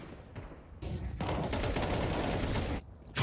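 Rapid bursts of gunfire from a Counter-Strike match at IEM Atlanta 2026, including wallbang shots in the Palace area, fill most of the moment as a dense, loud fusillade with short pauses.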